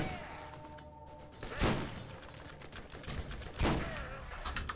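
Rifle fire in the Borderlands 1 video game, two sharp, loud shots spaced about two seconds apart, each with a booming low thump and ringing tail over steady game ambience.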